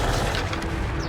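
A Confringo fire spell cast in Hogwarts Legacy during a fight with an armoured troll, a loud, dense crashing burst that fills the whole moment with heavy low rumble and no talk over it.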